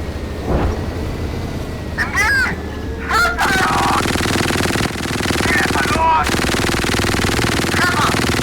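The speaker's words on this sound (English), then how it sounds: "This machine gun is sounding so mean" Machine gun fire in the Gunner Heat PC tank game, with a Leopard A1A2 tank in combat, as a loud, dense, continuous rattle. Engine rumble and short whining effects sit underneath.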